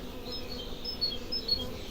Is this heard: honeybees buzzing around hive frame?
yes